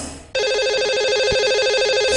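A telephone rings out as a radio show places a call to a lucky caller, a loud continuous warbling ring tone starting abruptly and holding steady.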